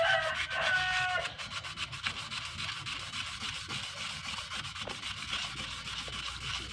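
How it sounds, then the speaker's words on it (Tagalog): Fine sandpaper rubbing on a mini chainsaw part during a top overhaul, a steady run of quick back-and-forth scratchy strokes, close and moderately quiet, with no voices. "Tapos banatan natin ng pino na liha."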